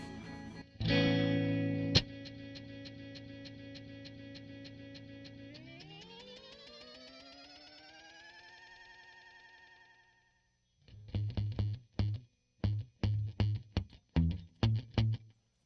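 Electric guitar through a homemade Flick reverb, tremolo and delay pedal making strange effects: a loud struck chord that swells and bends upward in pitch as it decays, then a pause and a series of choppy, stuttering plucked chords.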